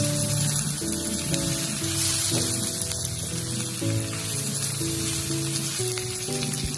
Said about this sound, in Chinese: 接着继续翻炒均匀